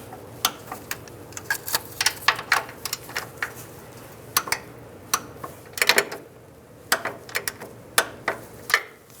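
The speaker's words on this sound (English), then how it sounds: "We can torque these nuts to 22 foot-pounds." Sharp, irregular clicks and ratcheting taps from a torque wrench tightening strut nuts on a 2005–15 Nissan Xterra front strut and spring assembly, close and crisp, bunched in short bursts over quiet.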